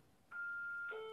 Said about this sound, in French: Il n'y a pas de téléphone, je ne sais pas pourquoi il sonne.